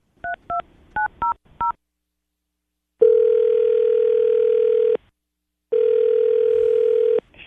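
Five quick touch-tone beeps dial a number, followed by two long, loud ringback tones separated by a pause, all heard clearly up close.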